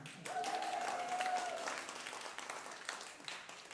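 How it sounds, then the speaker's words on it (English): Crowd clapping at a live bluegrass music show, a fairly quiet, dense wash of applause that swells early and slowly thins out, with a brief whistle or cheer near the start. "You can clap now."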